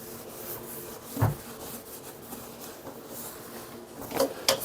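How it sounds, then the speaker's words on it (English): A cloth wipes and polishes a chrome sink with faint, steady rubbing, broken by a couple of brief louder squeaky strokes, one early and a cluster near the end. "just wiping it all off, polishing this chrome, wiping down the fronts of and the sides of these cabinets"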